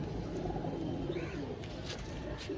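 Low, rolling coos from a group of pigeons fill the space continuously, close by and moderately loud, with a faint higher chirp partway through.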